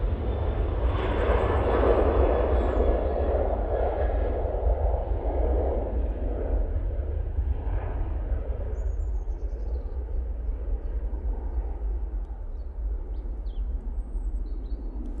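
Boeing 737-800 jet at Manchester Airport, a loud sustained engine roar that swells and then slowly fades as it passes.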